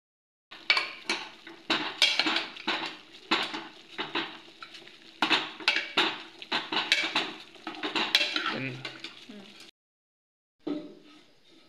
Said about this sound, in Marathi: मी तर मटण धुवून टाकत आहे भांड्यामध्ये